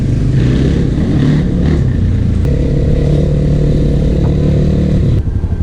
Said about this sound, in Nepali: अब बिस्तारै चलाऊ बाइक